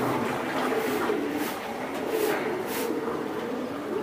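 Male racer pigeon of a bulldozer bloodline cooing in a steady, low, throaty rhythm, close and fairly clear over a constant background hiss.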